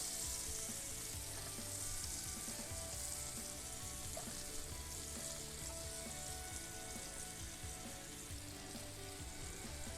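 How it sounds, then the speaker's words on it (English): Onion and ribeye steak sizzle in a hot, preheated cast iron skillet, a continuous crackling fry with bright spitting pops held at an even level, no talking over it. "You hear that sizzle? That's what you want to hear when you have a cast iron skillet that's been heating up."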